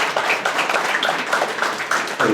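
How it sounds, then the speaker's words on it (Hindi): An audience at a talk claps together in sustained applause, a dense continuous patter of many hands heard alone without speech. "10 सेकंड लगातार तालियां"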